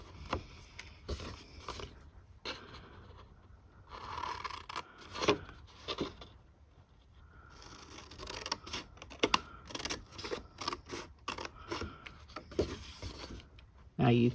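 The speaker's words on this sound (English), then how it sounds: "take our scissors and cut out some of the pieces on this" Scissors snip out paper card pieces for slimline cards and an envelope, with bursts of quick close crisp cuts separated by pauses and light paper rustling.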